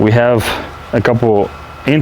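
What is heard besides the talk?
No everyday noises stand out.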